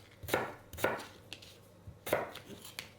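A knife chops vegetables on a cutting board for Mexican picadillo, with about six crisp, close thuds at an uneven pace, each with a short scraping tail.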